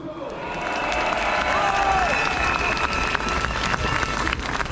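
An audience at a patriot political rally applauds the essayist Paul-Marie Couteaux with steady, dense clapping that swells in the first second and holds throughout, along with a faint crowd murmur.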